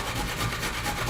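A sunchoke root scraped back and forth across a grater, giving a steady close rasping rub that runs through the whole moment with no pauses.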